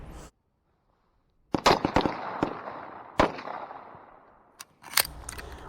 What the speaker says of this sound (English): When you watch the 45 ACP in action